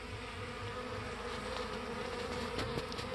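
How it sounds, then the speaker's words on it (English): Honey bees swarm around a hive entrance in spring, with possible robbing underway, producing a dense, continuous buzzing drone close by with individual bees flitting past, no voices. "you can watch the bees going in and out"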